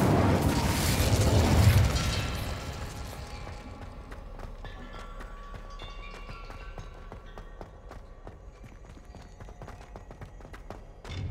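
An Incendio fire spell explodes in the video game Hogwarts Legacy: a loud, broad burst of flame roaring for about two seconds, then fading into crackling, clicking mechanical rattles and low rumble.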